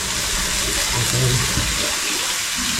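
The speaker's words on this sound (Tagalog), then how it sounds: "Tapos lagyan natin siya ng tubig." Water pours steadily into a cooking pot of broth ingredients, a close splashing rush lasting a few seconds with a lower gurgle near the middle.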